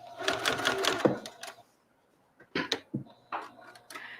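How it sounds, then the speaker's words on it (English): A home sewing machine stitches a mushroom-shaped pot holder in a fast whirring burst that stops short, then resumes in brief stop-start runs of stitching and back-stitching, close and fairly loud. "So I'm going to sew just a couple of inches, and then I'm going to back stitch"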